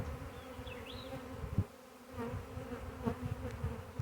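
A honey bee swarm hanging on a trap: a close, dense buzzing hum from many bees, steady and droning, with the odd louder individual bee passing nearby.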